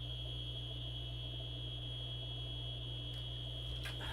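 Building alarm in a condominium sounds as a steady, continuous electronic tone with a low hum beneath it, holding at an even level throughout with no talking.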